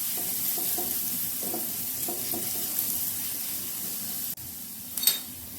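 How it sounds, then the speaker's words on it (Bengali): Garlic and a dried red chilli frying in hot oil while being stirred, a steady close sizzle with scattered spoon scrapes, then a brief dip and a short bright hiss near the end. "তেলের মধ্যে দিয়ে দিচ্ছি একটা শুকনো লঙ্কা ফোড়নে দিলাম, আর গ্রেট করা রসুনটা দিয়ে দিচ্ছি"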